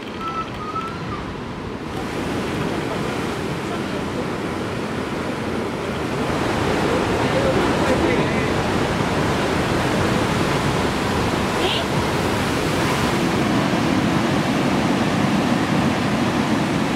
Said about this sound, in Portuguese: E ali o mar.